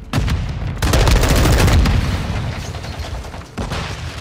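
Grenade blast in Call of Duty: Modern Warfare II, a loud booming burst with a rumbling tail, set among sharp gunfire cracks in a close, dense firefight.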